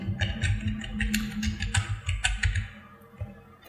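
Keys clatter on a computer keyboard in quick, close bursts of typing that thin out and stop near the end, with no speech.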